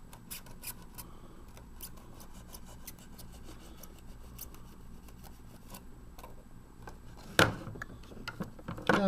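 Board material being cut by hand with a steady rhythmic rasping and snipping, close and moderately loud, with a few sharper knocks near the end.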